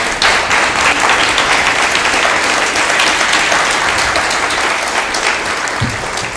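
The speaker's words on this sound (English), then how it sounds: "please give them a round of applause" Steady, dense applause from an audience at a town candidates forum, sustained at full volume across the whole stretch without a break.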